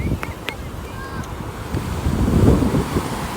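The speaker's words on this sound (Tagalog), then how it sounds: "Ganito kaganda yung dagat ng Hawaii." Ocean surf and gusting wind at a beach park in Maui, Hawaii, a steady rushing wash of waves with wind buffeting the microphone, growing slightly louder toward the end.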